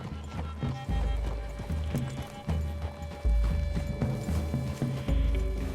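Horse hooves in the video game Red Dead Redemption, rhythmic clip-clop of horses moving at a steady gait, close and fairly loud, over a low game soundtrack.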